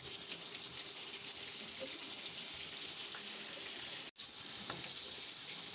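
Tomato halves, with their skins left on, fry in hot oil with a steady, close sizzle and a brief sharp break in the sound near the end.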